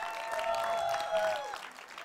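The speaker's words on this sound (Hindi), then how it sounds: "दीपक आनंद साहब को जोरदार तालियों के साथ।" An audience applauds loudly for Deepak Anand at a stage event, with dense continuous clapping over a brief stretch. A musical tone rings under the clapping.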